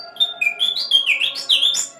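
A Lamy birdsong whistle imitates a Connecticut warbler, playing a rhythmic run of high, middle and low whistled notes, loud and close, with no talking.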